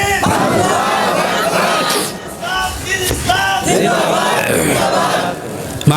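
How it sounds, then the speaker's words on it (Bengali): A loud crowd at a religious gathering shouts the takbir chant together in sustained, roaring bursts with a brief dip in the middle, dense and close throughout. "একটু জোরে তাকবীর দেন, লিল্লাহি তাকবীর।"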